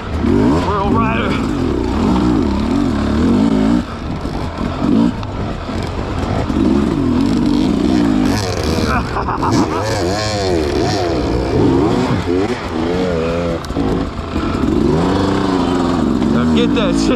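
A KTM dirt bike roars along soupy, muddy trails in the rain, its engine revving and dropping in rapid surges up close as a rider talks over the noise.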